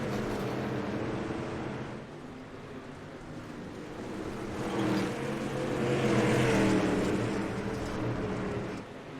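Dirt street stock race cars roar around the Cedar Lake dirt track during a Dirt Dog International showdown, engine noise droning at a distance, then swelling louder as the pack passes and easing off again.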